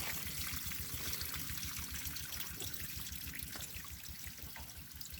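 Dark liquid drains from an old, worn-out car battery in a steady, continuous trickle and splash that stays close and even throughout, with no talking.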